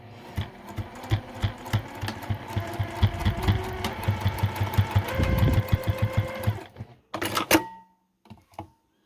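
A domestic sewing machine bastes a small fabric tab for a tiny coin purse, its needle hammering in a steady fast rhythm close by for several seconds, then a short final burst and quiet handling clicks.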